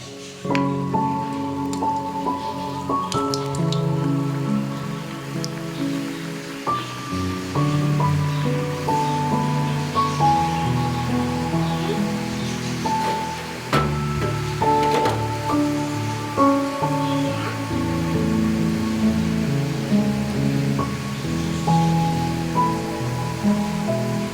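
Murukku dough frying in boiling oil fills the air with a dense, steady bubbling sizzle like rain on a surface, close and continuous for the whole stretch, with no voices.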